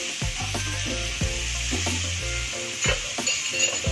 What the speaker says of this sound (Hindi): अभी 2 से 3 मिनट हो गए इसको फ्राई करते हुए।